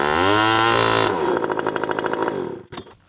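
A small, cheap outboard boat motor roars loudly below full throttle, then rapidly sputters and pops as it revs, before cutting off abruptly with a few clattering bursts.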